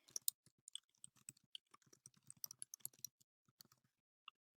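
Keys on a computer keyboard click in quick, irregular bursts as an answer is typed, with soft close taps and short pauses, then a last single keystroke, and no voices.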